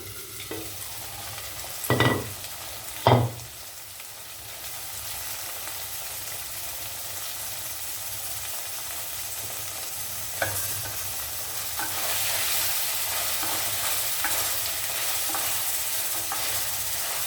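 Four cloves and a one-inch piece of cinnamon fry in oil, giving a continuous hissing sizzle that grows slightly louder toward the end, broken early by two brief utensil knocks.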